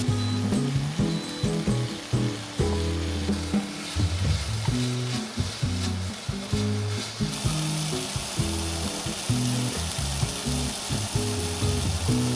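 Food sizzles and crackles in a hot pan at a forest campsite, a steady frying hiss with irregular pops and scraping stir sounds, close and moderately loud.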